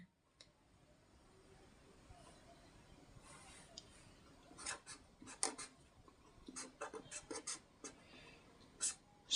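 Quiet scratchy pen strokes in bursts on paper during a Hindi grammar lesson, rubbing and tapping in short irregular runs that grow busier toward the end, with no talking over them.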